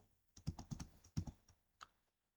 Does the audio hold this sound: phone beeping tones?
no